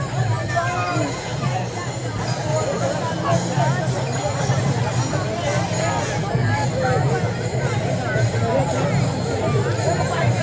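Dense crowd of pilgrims on the Pune to Saswad wari procession, a steady babble of many voices with traffic rumble, continuous and close throughout.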